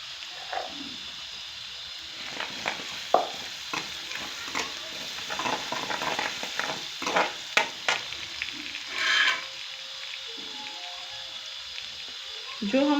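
Ginger garlic paste fries in oil in a pan, a soft crackling sizzle broken by scattered stirring scrapes and taps, fairly quiet and close, with no voice over it.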